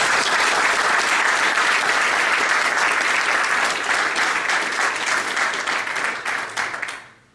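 Sustained, full applause from an audience at a Green Party Northern Ireland AGM, steady and loud for about six seconds before tapering off quickly.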